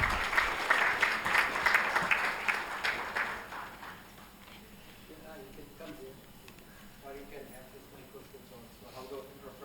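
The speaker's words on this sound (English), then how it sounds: "Please give them a big round of applause." An audience at a talk on good practices in Auroville claps warmly to welcome the speakers. The loud applause fades after a few seconds, and a voice then begins speaking over quiet room sound.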